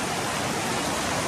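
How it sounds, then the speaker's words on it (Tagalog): Strong current of a river in Palawan rushing past, a dense, steady broadband roar of flowing water filling the short moment, close and loud with no voices over it. "napakalakas ang agos"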